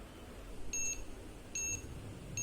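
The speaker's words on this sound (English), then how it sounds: "the LED and buzzers are giving the output signal indicating that there is an emergency" An emergency buzzer on a pulse-monitoring device beeps three times at a regular interval, each beep a short, clear electronic tone, fairly faint over a quiet background.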